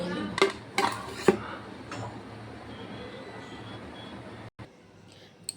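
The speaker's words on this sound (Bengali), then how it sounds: "15 মিনিট পর ঢাকনাটা খুলব।" Metal pot lid handled on a cooking pot after fifteen minutes of boiling: three sharp clanks in quick succession, then a faint scrape and a low background hum.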